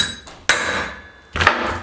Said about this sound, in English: First thing I'm going to do is center punch